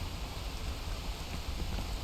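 Steady rain falling in a jungle, an even wash of hiss and patter running unbroken from start to finish, with no voices.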